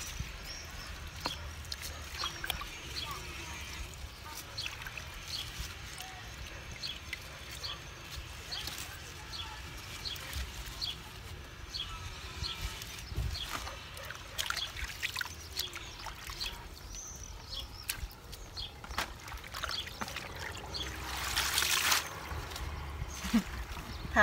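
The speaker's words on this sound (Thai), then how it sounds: "ล้างผ่านพอแค่ขี้ดินเขาออกหน่อย" Freshly cut garden vegetables are rinsed in water outdoors to wash off soil, with faint trickling, sloshing and splashing at close range, a louder splash burst near the end, and some quiet talk in the background.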